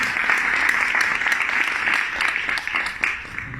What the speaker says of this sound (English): You want to clap for yourself?